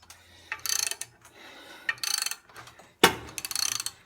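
Cylinder liner on a Detroit Series 60 12.7 diesel engine popping up during removal; several short metallic pops and scraping clicks come in bursts separated by quieter gaps, close by and fairly faint.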